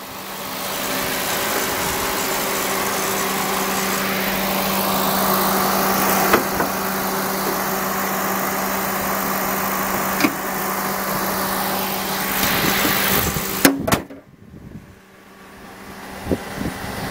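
A 2005 Toyota Prius hybrid, a four-door liftback, running steadily with a continuous engine drone and hum, close and loud, then a few clicks and a sudden drop in level near the end.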